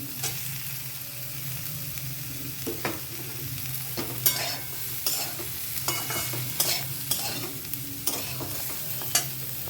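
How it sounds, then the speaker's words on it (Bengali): Vegetables are stir-fried with fried paneer in a pan for a broccoli salad, giving a steady low sizzle with repeated scraping clicks of the spatula that come close and clear, with no talk over them. "এর উপরে দিয়ে দিচ্ছি ভেজে রাখা পনির"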